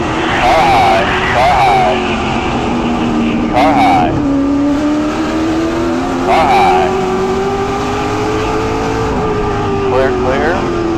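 A late model race car engine drones loudly on track, its pitch rising steadily through a long pull, with sharp chirps from other cars and spotter radio talk over it.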